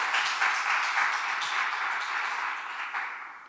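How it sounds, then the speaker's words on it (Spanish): Audience applause closes a multi-day conference on environmental communication, a dense, steady wash of many hands clapping that fades slightly toward the end, with no voices over it. "Espero que ahora sí hayas podido oír los aplausos."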